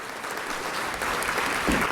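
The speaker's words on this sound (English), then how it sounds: "A round of applause for the Southeast JROTC." Audience applause at a school board award ceremony for a high school JROTC unit, a steady even wash of clapping from a seated crowd, moderately distant and continuous, with no voices over it.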